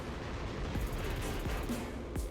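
Rapid weapon fire from combat robots in War Robots gameplay, several sharp shots in a steady burst over dense, constant battle noise.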